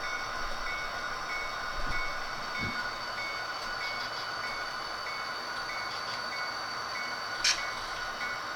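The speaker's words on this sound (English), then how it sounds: "our local switcher enters the main" A local switcher locomotive moves onto the main line at the Sherwood yard, a steady rail rumble with faint wheel and track noise and a few brief metallic clanks, heard from a moderate distance with no voices.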